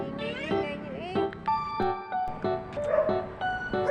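Several cats meow repeatedly close by while walking along outdoors, overlapping mews and short cries following one another in quick succession.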